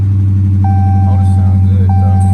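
A Dodge Magnum R/T with 77,000 miles, bought from Copart, runs with a steady low engine drone. It stays constant throughout while people talk nearby.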